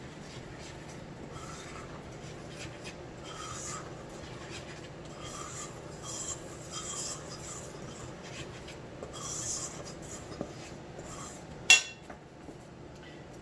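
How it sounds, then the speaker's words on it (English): Baking soda stirred in a bowl with a utensil for sidewalk chalk paint: a soft, continuous gritty rubbing and scraping with faint clinks and one sharper knock near the end, quiet and without talk. "We're going to stir to combine the two."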